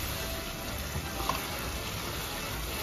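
Tomatoes frying in a pan with a spoonful of roasted ground cumin, giving a steady, soft sizzle with a faint stir partway through.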